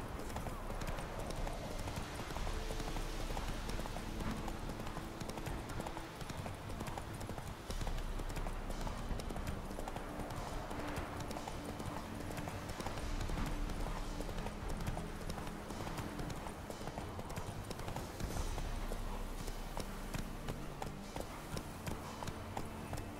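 Roach, a horse in the Witcher 3 video game, gallops with a steady, rapid clip-clop of hooves running continuously and fairly close, under faint in-game ambience.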